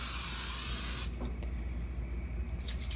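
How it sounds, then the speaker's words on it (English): Cooking spray hisses onto a skillet in one loud, sustained burst lasting about a second, followed by quiet kitchen background and a brief second faint spritz near the end. "get your cooking spray, and grease up your pan"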